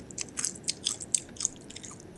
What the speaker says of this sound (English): Stop chewing in front of the damn mic!